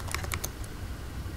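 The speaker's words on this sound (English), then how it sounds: "Now in the command, you're going to type the command" Keys clatter on a computer keyboard as a command is typed, a quick burst of several close, crisp taps followed by quieter soft keystrokes.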